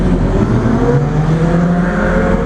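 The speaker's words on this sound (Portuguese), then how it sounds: "fez barulho, hein? CBR 1000, nova." A loud, steady engine roar with rising harmonic tones from a new Honda CBR 1000 sport motorcycle revving close by, with no one talking.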